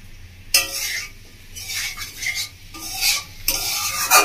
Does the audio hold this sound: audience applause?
no